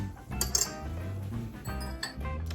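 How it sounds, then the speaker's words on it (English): A whisk stirs a milk, water and yeast mixture in a mixing bowl, with quick metallic clinks and scrapes against the bowl, uneven in rhythm and fairly close. "You can once again take a whisk and just mix that together."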